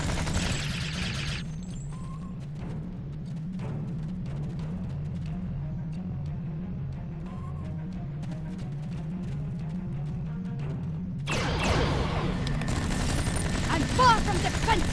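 Weapons fire in the Star Trek Online game arrives as rapid, repeated bursts of shots over a constant low rumble, growing louder and denser near the end, with brief voices in between.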